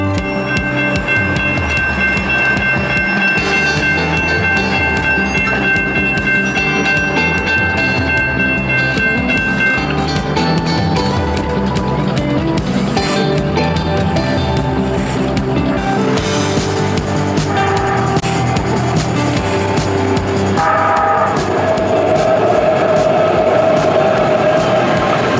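A Gold Line light rail train approaches a street crossing, its steady rumbling roll and wheel clatter filling the scene for about 25 seconds, with a higher bell-like tone rising near the end; no one talks.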